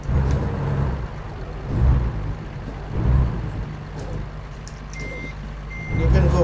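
A truck reversing in American Truck Simulator, its loud backup beeper sounding at a regular pace of about one beep per second over a low idling diesel engine rumble, no talk.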